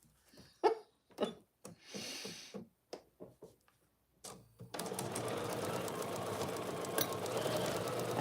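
A sewing machine bastes together the layered fabric of oven mitts, starting after a few scattered handling noises and then running as a fast, continuous close stitching whir to the end.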